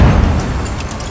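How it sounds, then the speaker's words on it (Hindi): A rocket launcher fired during a raid in Gaza sets off a huge explosion: a heavy, low boom at the start that rolls into a long, dense rumble and debris noise, with no voices. "उसने जैसे ही रॉकेट दागा, जबरदस्त धमाका हुआ, धुआं उठा"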